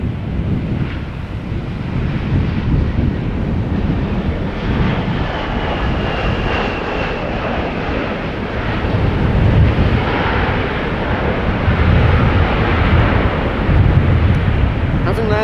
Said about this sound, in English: This is Vueling flight 8365 arriving from Malaga.